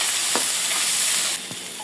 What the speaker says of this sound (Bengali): হলুদের গুঁড়া দু টেবিল মতো একটু ভালোভাবে কষায় নেব পাঁচ মিনিটের মতো